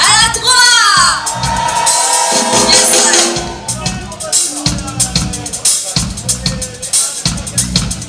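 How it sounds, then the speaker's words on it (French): Live concert crowd in Mayotte shouting and whooping on cue, a loud dense wall of voices sustained across the clip with music pulsing underneath. "J'aimerais bien vous entendre crier."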